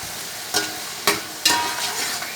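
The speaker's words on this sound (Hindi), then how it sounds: "1-2 मिनट के लिए इसे भी फ्राई करेंगे।" Chopped tomatoes and green chillies fry in a pan for beef pulao, a steady hiss of oil with three sharp stirring scrapes spaced about half a second apart.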